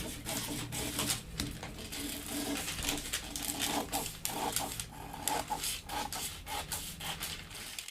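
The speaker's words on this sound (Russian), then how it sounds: "Поэтому я сейчас беру и вырезаю рукавчик как по базе." Scissors cut a blouse sleeve from fabric in quick, repeated snips and rustles, close and fairly busy, with no talk.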